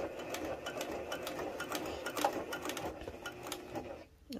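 A Janome HD9 sewing machine stitches through fabric in a steady, fast mechanical chatter, close and even, then stops abruptly near the end.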